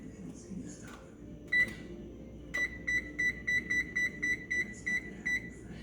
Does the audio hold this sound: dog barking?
no